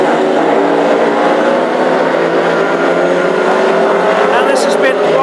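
Classic hot rod race cars roar past on an oval track at a Hednesford meeting final, a loud, sustained engine drone with shifting pitch, heard beneath a commentator's voice.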